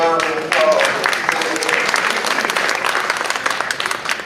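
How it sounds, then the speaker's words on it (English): An audience at a county government meeting claps for their commissioner, a dense burst of applause that starts abruptly and holds steady for several seconds. "Let's give our commissioner a round of applause."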